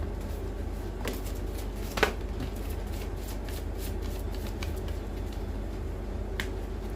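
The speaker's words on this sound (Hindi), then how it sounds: "सिंगल शफल लेंगे प्रभु जी।" Tarot cards being given a single shuffle, soft riffling and flicking sounds with a sharper snap near the start, under a steady background hum.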